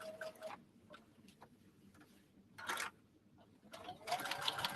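A sewing machine top stitches a sling bag in short, scattered bursts, with brief pauses and soft handling noises between runs, fairly quiet overall.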